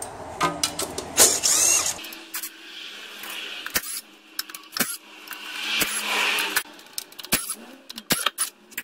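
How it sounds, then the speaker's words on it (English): Small power tool whirring in bursts as 10mm transmission pan bolts are spun off a Toyota FJ Cruiser's A750E automatic transmission, with sharp metallic clicks and clinks of loosened bolts between the runs. "And I'll just whiz all the pan bolts off, they're all 10mm."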